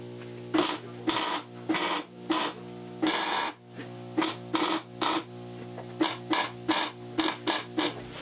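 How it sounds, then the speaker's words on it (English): Welding a spacer onto a Triumph TR6 frame: a string of short, crackling bursts with brief pauses between them, close and fairly loud, about a dozen separate tacks with no talking. "So let me weld this."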